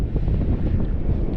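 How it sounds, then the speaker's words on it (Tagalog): Strong wind buffeting the microphone outdoors while fishing near water, a loud continuous low rumble with no speech. "Nasa likod natin yung hangin guys."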